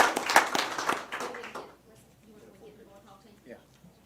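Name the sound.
audience applause at school board meeting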